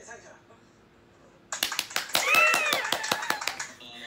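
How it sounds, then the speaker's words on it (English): A burst of rapid hand claps, around a dozen sharp close smacks in uneven succession, with a voice sounding over the middle of them after a quiet start. "The awkward clap."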